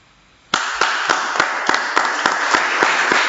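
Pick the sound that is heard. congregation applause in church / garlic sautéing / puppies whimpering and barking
congregation applause in church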